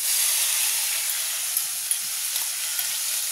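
Marinated chicken hitting a pan with a little oil, giving a steady bright sizzle and hiss that stays loud and close, with a few small pops and no voices.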